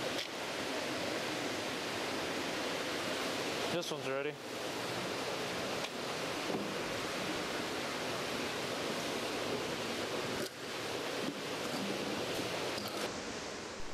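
Steady rushing water flows through fish hatchery troughs and in and out of egg-incubation jars at a warmwater hatchery, a constant broadband wash with a brief voice near the middle.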